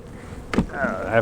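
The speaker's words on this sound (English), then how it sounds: "I got bees from that other hive coming right here, because their entrance is right here, and they're coming in here" Honey bees buzz around a hive entrance after an arctic cold snap, a close, brief buzzing drone rising after a soft knock, loud against faint outdoor background.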